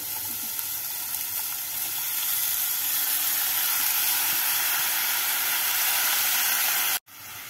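Steady, loud hiss of katla fish pieces, already fried on both sides, sizzling in hot oil as spices go into the pan; the sound holds evenly for about seven seconds, then cuts off briefly.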